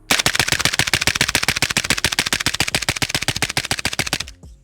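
A Stenzel SAK-21 AK-pattern rifle fitted with a Serbian Zvuk suppressor fires a long, fast, even string of muffled shots with no breaks, then falls silent.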